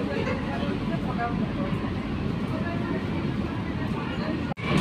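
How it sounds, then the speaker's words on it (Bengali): An AC local train runs slowly toward Sealdah, heard from inside the coach as a steady, close rumble with a brief sharp dropout near the end. "ট্রেনটা একটু স্লো রান করছে"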